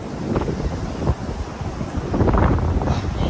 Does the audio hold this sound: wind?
yes